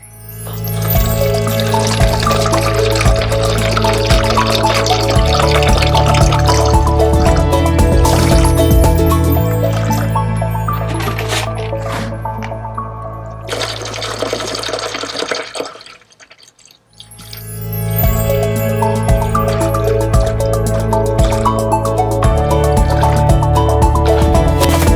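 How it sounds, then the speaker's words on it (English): Water pours steadily into the tank of a Miracle-Gro Twelve indoor growing machine, a loud continuous gush with a brief pause near the end before the flow resumes. "we need to fill the machine with water"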